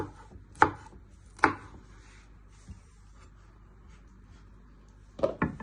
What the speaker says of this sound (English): Turn it around and chop it into little pieces.